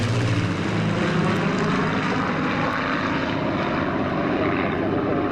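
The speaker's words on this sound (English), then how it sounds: "enjoying these great old aircraft" Old propeller-driven aircraft engine droning steadily and loudly, a continuous broadband roar with no pauses and no voices.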